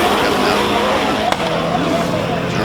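A Mazda rotary race car at a hillclimb, a loud, steady, buzzing engine note held close throughout, with a brief sharp pop partway through.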